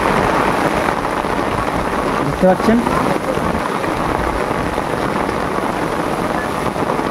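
Steady heavy rain falling on a Sundarban river during cast-net fishing, a dense continuous hiss throughout, with a voice briefly speaking over it partway through.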